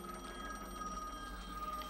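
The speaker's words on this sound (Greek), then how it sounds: "Τηλέφωνο." Telephone ringing inside the horror video game The Medium, a steady electronic bell tone repeating over a quiet, droning game soundscape with no talking.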